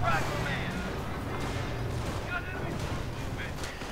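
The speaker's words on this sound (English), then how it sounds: "Anti-tank gun firing away with glee." A Company of Heroes anti-tank gun fires amid a dense, continuous din of battle: booms and crashes blur together throughout, with a voice talking over the top.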